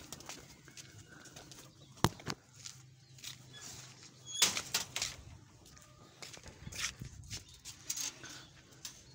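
Pigeons in a breeding setup coo softly and rustle nearby, with a few sharp wing flaps or knocks among faint background noise.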